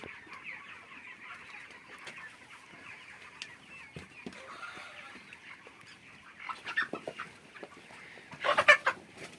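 Broiler chickens in a rooftop farm shed keep up a steady, dense murmur of clucks, with louder calls swelling near the end, and no one talking.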